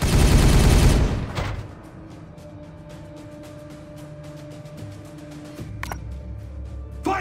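A loud burst of weapon fire in the Warhammer 40K Regicide video game, about a second long, followed by a low sustained rumble and scattered faint clicks and ticks as the battle continues.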